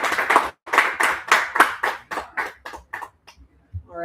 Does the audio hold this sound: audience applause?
yes